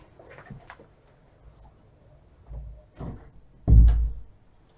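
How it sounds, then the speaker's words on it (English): An indoor door swings shut, ending in a firm thump near the end, after a few softer shuffles and handling sounds in a quiet room. "Excuse me while I close my door for a minute."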